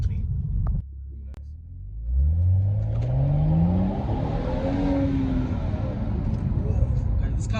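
A straight-piped BMW 335i with the N55 engine and an Akrapovic exhaust pulls away, its deep exhaust note rising through the gears under a steady low rumble; someone talks over it.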